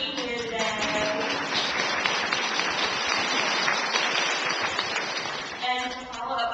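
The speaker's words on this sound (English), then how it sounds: "just give yourself a round of applause for being here today" A crowd at a women's luncheon breaks into sustained applause, a dense steady wash of clapping in a room, with speech heard before and after it.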